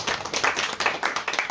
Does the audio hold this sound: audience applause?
yes